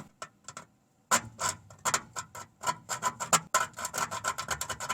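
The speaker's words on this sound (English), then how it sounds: "It's a cheap Harbor Freight file, but if it doesn't work, I have another Dremel attachment." A cheap Harbor Freight file rasping against metal during rust repair on a 1985 Toyota MR2, a quiet start followed by quick repeated scraping strokes in an uneven rhythm, close and alone.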